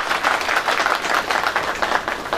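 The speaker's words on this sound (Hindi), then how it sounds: "जोरदार तालियां" Applause at a right-to-information training session, dense steady clapping from an audience at moderate distance, continuous throughout with little else audible.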